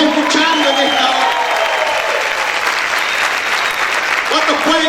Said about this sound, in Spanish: ¿Cuántos pueden aplaudir fuerte al Rey?